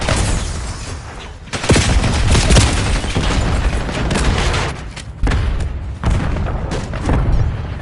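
Frag grenade explosions in a shooter video game, a dense run of loud booms and blasts with overlapping gunfire, close and saturated, with brief dips between the heavier detonations.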